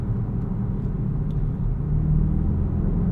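A 2024 BMW X5 M Competition SUV with a twin-turbo engine accelerates hard under full throttle, a deep steady engine rumble heard from inside the cabin, loud and building slightly toward the end.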